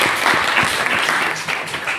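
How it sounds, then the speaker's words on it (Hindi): A seminar audience claps together in dense, continuous applause that stays loud and even throughout. "चलिए एक बार अपने लिए भी और ताली हो जाए।"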